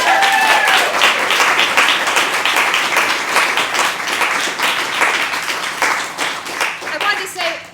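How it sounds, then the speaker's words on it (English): Audience applause at a fellowship presentation, steady dense clapping from a large crowd sustained throughout, loud and close with a slight swell and fade near the end. "a round of applause"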